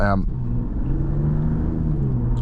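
A 2025 Ram 1500 RHO pickup's V8 engine idles with a deep, steady rumble and a rough, raspy texture, loud and close, holding an even tone throughout.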